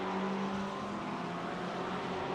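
Two McLaren GT3 race cars running nose to tail during a GT3 Open race, heard as a steady, loud engine drone at a distance with no talk over it.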